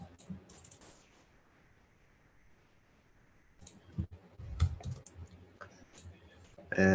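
A computer mouse clicking while points are drawn on a forex trading chart, sparse clicks scattered across the stretch and grouped toward the end, close and dry, without talk.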